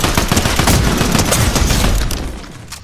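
Bursts of SMG fire in a video game, loud and close, crackling rapidly and nearly without pause before tapering off near the end.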